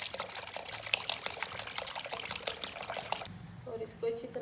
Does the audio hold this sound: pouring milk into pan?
yes